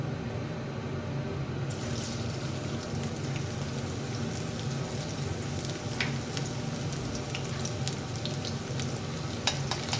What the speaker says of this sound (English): Saute them until they turn light golden brown and aromatic.